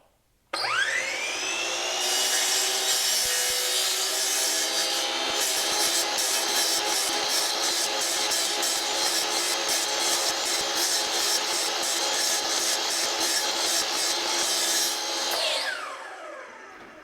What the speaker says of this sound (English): I'm going to cut my dado using the miter saw.